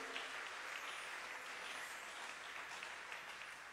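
A church congregation applauds loudly and continuously for the Lord, a dense even wash of clapping hands throughout with no speech.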